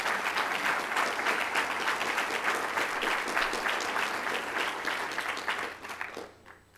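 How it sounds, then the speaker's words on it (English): Audience applause at a public lecture on dark matter, a dense, steady wash of many hands clapping that holds strong for about six seconds before tapering off near the end. "So let's give him a round of applause."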